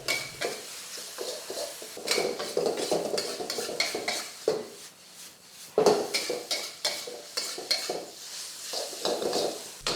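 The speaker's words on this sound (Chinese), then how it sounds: "然后我们大火炒到它稍微比较干一点就可以上了" Mamak-style mee goreng noodles tossed in a wok over high heat, with sizzling, scraping spatula strokes and clanking metal in irregular bursts, close and moderately loud, no voices.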